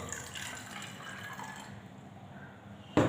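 Lukewarm water poured into a bottle holding cumin seeds, a soft, close trickling fill that runs for a few seconds before ending in a sharp knock.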